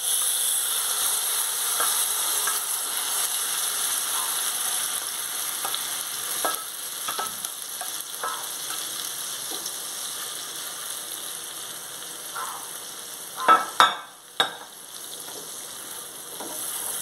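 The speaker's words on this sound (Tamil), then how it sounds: "இது அப்படியே லோ ஃப்ளேமில் வச்சுட்டு இது கொஞ்சம் நல்லா ஃப்ரை ஆகட்டும்" Marinated butter chicken frying in a pan over a low flame: a constant soft sizzle and hiss, with occasional light stirring clinks and a few sharper scrapes near the end.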